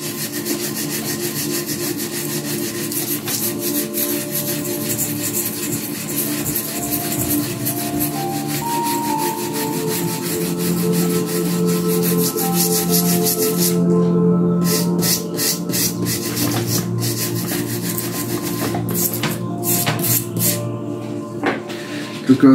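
A wire-bristle brush scrubs the soft fibres off bonsai deadwood, a steady, close, raspy scratching that runs continuously with shifting strokes and a few sharper scrapes near the end.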